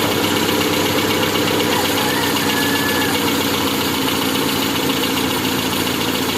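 A Toyota 3A-U engine, its water and oil having mixed, idles steadily and smoothly, a close, continuous mechanical drone with no speech.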